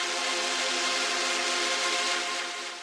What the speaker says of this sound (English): a synth pad sound like this